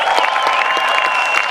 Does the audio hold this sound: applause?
yes